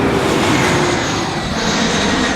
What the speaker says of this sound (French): Regardez-moi ça, tous les avions qu'il y a.